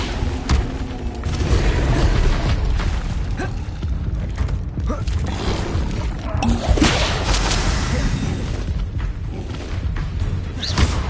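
Glacius ice spell cast in the wizarding action game Hogwarts Legacy, a dense rumbling wash of magical effects with creaks, thuds and whooshes layered over a continuous loud battle din.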